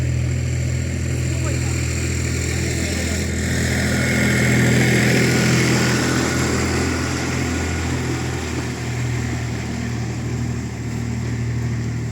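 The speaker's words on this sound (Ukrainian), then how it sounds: "з трактор проїде, не лякайтесь" A tractor's steady, rumbling engine drones close by for the whole stretch on a winter street in Truskavets, Ukraine, swelling slightly in the middle as it passes.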